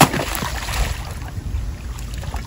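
A small waterproof battery-powered jet drive motor on a kayak runs steadily out on the water, a continuous whirring drone mixed with wind and water noise, with no voices.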